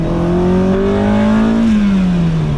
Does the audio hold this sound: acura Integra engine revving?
yes